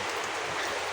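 Heavy, constant rain pouring down, a dense, loud wash of drops with no breaks and no voices.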